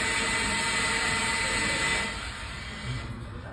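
Seven server fans in a 3,000 square foot data center spin at about 3,000 RPM, giving a steady, loud, turbine-like broadband roar with a high whine that eases off slightly partway through.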